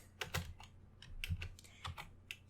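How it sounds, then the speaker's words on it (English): Computer keyboard keys typed in a few short bursts of clicks, close and fairly quiet, with brief pauses between them. "Let me just find it on my keyboard."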